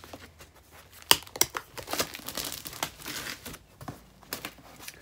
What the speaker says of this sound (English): So we've got our cello envelopes, which are compostable.